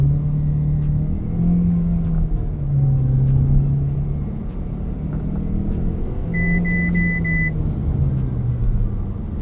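An MG HS plug-in hybrid accelerates hard from a standstill toward 100 km/h, a steady engine hum climbing in pitch through several gear steps, heard from inside the cabin with a faint chime partway through.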